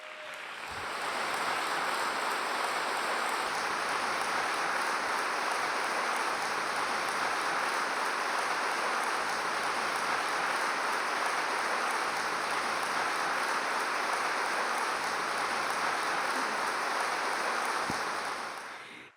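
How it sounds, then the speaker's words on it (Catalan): An audience applauds for Roser Losco at a Catalan book presentation, a dense, steady roar of clapping that swells within a second, holds unbroken for about seventeen seconds and then fades, with no voices over it. "sisplau, un fort aplaudiment per ella."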